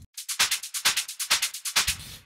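Crisp hi-hats and shakers play a tight rhythmic groove, about a dozen bright shuffling hits with soft low thumps on the accents.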